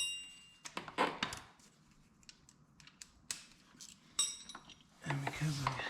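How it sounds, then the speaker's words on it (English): A 19 mm ratchet and wrench working on bolts while installing a steering box stabilizer on a Dodge Ram 2500/3500, giving sparse metallic clicks and clinks close by, with quiet pauses between them. "Use 19 mil ratchet and wrench"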